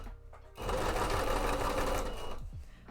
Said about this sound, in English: Also with sewing and stuff, it's kind of loud